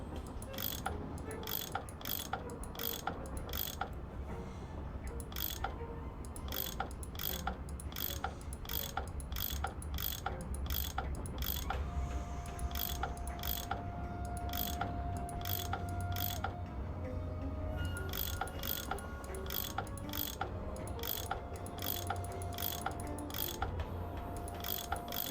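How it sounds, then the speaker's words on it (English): A tool unscrewing bolts in Nancy Drew: Last Train to Blue Moon Canyon makes a steady, evenly spaced ratcheting click sequence over a low mechanical hum, close and crisp with no speech. "I bet that's what you use to unscrew these bolts."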